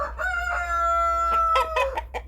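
A young rooster on a backyard poultry farm gives one full crow, close and clear, followed by a few shorter clucking calls.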